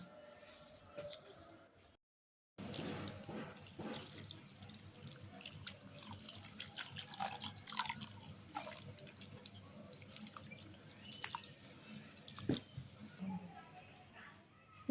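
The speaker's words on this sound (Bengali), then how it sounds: "চিড়াগুলি ভালো করে ধুইয়া এখন ভিজায় রাখুন" Flattened rice (chira) is rinsed and soaked under running tap water, with splashing, trickling and dripping against a basin; a short silence comes near the start, and the water carries on alone after it.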